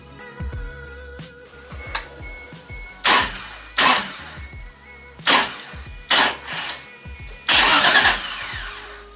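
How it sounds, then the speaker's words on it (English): A starter motor repeatedly cranks a Toyota 1JZ engine swapped into a widebody Supra with the fuel pump switched off, in several loud bursts of whirring turnover separated by short pauses and never catching. "I kept it off just to hear it crank"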